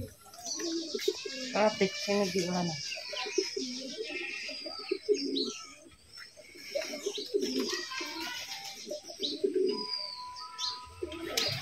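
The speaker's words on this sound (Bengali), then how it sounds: "তাদের কবুতরের ডাকগুলো সুন্দর" Soft pigeon coos repeat steadily at a pigeon farm amid a busy chorus of chirps and rustling, with people talking in the background throughout.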